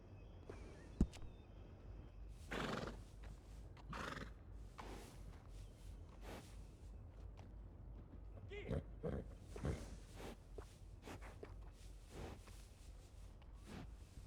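A horse in the video game Red Dead Redemption 2 whinnies and snorts in a few loud bursts against a quiet, steady background hum, with a faint thud near the start.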